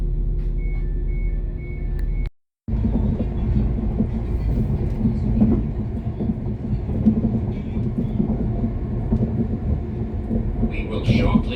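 Northern Class 195 diesel multiple unit arriving at Gorton, heard from on board as a steady low rumble of wheels and running gear that continues for several seconds after a brief silent dropout.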